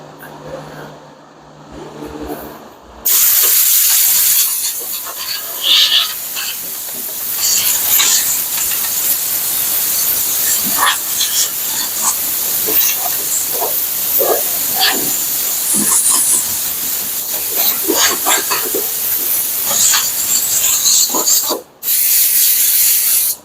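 Rust-Oleum rust reformer is sprayed onto the bare metal of a 1975 Plymouth Duster as a long, steady hiss close by, broken by a few short pauses, with faint clanks and handling noise in the background.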